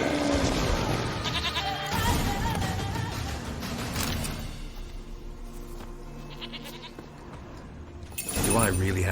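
A goat bleats amid dense sound effects and music in The Witcher 3: Wild Hunt, the cries rising out of a busy, loud mix.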